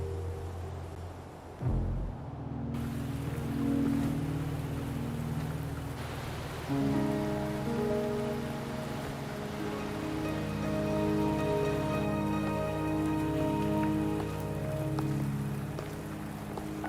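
Steady rain falls in the video game Wuthering Waves, a continuous wash of drops under sustained music with layered tones.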